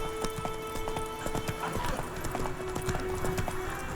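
Roach, Geralt's horse in The Witcher 3, clip-clops along at a steady walking rhythm, hooves close and clear, with an occasional snort or whinny and faint ambient sound behind.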